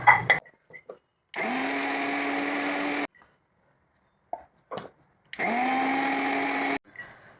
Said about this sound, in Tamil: இப்போ வந்து இந்த மற்ற இன்க்ரீடியன்ஸ் எல்லாமும் இதில் போட்டு அரைச்சின்னு வந்துடலாம்